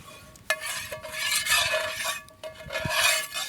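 A utensil stirs and scrapes trout in a hot pan, giving repeated rasping sweeps with a few sharp clinks against the metal and a faint sizzle underneath, close up and with no talking.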